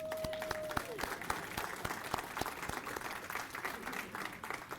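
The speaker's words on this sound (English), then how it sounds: "give Jeff a round of applause" Applause from an audience at a volunteer awards ceremony honoring a chapter president, a moderate wash of steady clapping with a voice briefly heard over it.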